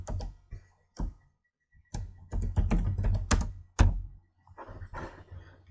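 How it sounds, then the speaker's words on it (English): Computer keyboard keys clatter in short irregular bursts of taps, close and fairly quiet, with brief pauses between groups of keystrokes while text is entered. "Click anywhere on the screen and we type intro 1."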